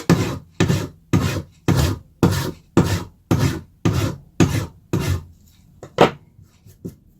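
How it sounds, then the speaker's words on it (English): A file rasps steadily across the hard rawhide face of a mallet in about ten even, rhythmic strokes, close up, then a few lighter, scattered scrapes. "you take your file and the face of your hammer, and you're just going to file that surface"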